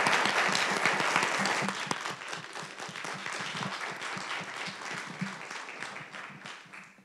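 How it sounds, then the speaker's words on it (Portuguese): Audience applause following a cosmology lecture on type Ia supernovae, a thick burst of many hands clapping that starts loud and gradually thins and fades toward the end, with faint voices mixed underneath. "Mais uma salva de palmas."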